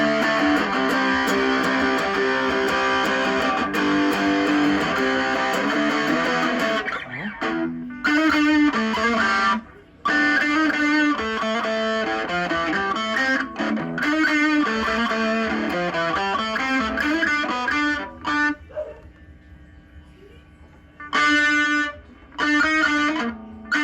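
An electric guitar strums chords through a RAT distortion pedal, producing a gritty, sustained, mid-heavy tone with breaks between phrases and a few abrupt stops and restarts, played close and loud with no talk.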